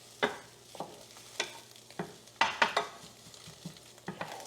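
Eggs being stirred in a hot pan, with a quiet steady sizzle under a string of sharp scraping and tapping strokes from the utensil against the pan, coming every half second or so, close and without talk.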